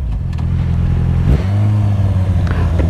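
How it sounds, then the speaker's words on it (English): Yamaha FZ6R motorcycle engine revving up loud and close, a deep rumble climbing sharply partway through and then holding at a higher steady drone. "We ride a Yamaha FZ6R."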